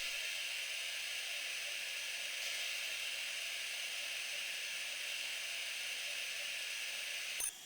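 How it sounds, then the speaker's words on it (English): Compressed air hisses steadily from an MSA Firehawk SCBA cylinder as pressure bleeds off through the bypass knob, a constant broadband rush that holds unbroken and close before cutting off sharply at the end. "crack the bypass knob to slowly bleed off pressure"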